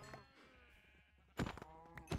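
Sheep in Minecraft bleating in short loud calls, one near the start and two louder bursts later, over quiet game background sounds.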